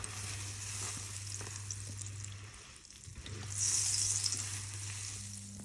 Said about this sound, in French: je vais commencer la cuisson crêpe par crêpe avant de me régaler